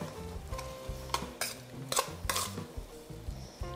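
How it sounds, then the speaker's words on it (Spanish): Chicken salad with lettuce, tomato and corn is tossed in a bowl, making soft rustling, stirring scrapes and a few sharper clinks of utensils against the dish, close and fairly quiet. "Vamos a mezclar."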